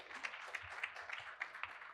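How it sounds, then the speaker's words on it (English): Audience applause at a university teaching and learning festival, a short burst of dense clapping from a seated crowd, steady and moderately loud throughout without voices on top. "Can we give the round of applause for Mr."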